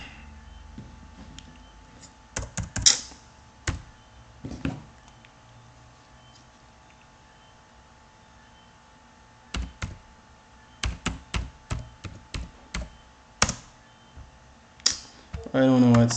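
A malfunctioning computer keyboard gets pressed in irregular clusters of close, knocking keystrokes, separated by quiet gaps, ending on a louder burst of noise.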